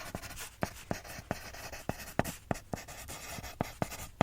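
A pen scratches across paper in quick, irregular strokes, close and crisp, with short pauses between marks in a quiet room.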